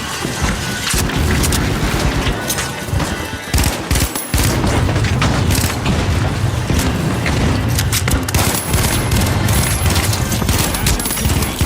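A frag grenade in the video game The Finals sets off a loud blast in the middle of heavy, continuous gunfire and explosion noise.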